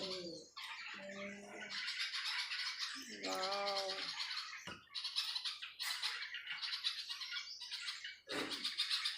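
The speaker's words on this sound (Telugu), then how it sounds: "ఈ సమ్మర్లో పిచ్చుకల సౌండ్." Sparrows nesting by a money plant at a home in summer give loud, close squawks and chirps in rapid bursts, with a brief exclaimed word.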